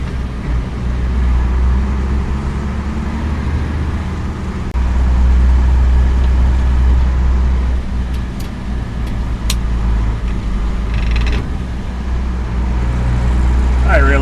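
Vehicle towing an antique fuel wagon tank along a road, with a steady loud engine and road rumble throughout, a slight surge midway, and faint rattles on top.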